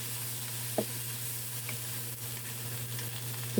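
Sautéed cabbage sizzling steadily in a pan as broth is poured in, a continuous close hiss with a low hum and a few brief clatters of utensils, no talk.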